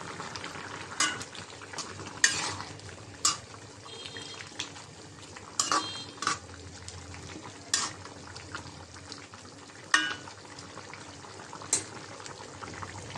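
Beef head meat curry stirred in a simmering pot, a bubbling background broken by a dozen sharp metal scrapes and clanks of the spoon against the pot at irregular intervals.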